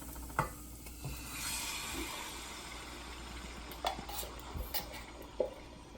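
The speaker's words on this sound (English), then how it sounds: "and then I'm going to add tomato sauce" Tomato sauce going into a hot pot and being stirred, with a soft sizzle under scattered clinks and scrapes of utensil against the pot, fairly quiet and close.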